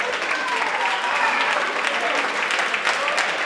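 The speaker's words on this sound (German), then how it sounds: "großer Applaus für beide Kämpfer." A crowd at a Zurich fight night at Dado Gym applauds both fighters after a drawn bout, with dense, steady, loud clapping filling the whole stretch and a voice speaking over it.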